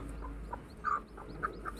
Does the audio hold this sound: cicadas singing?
no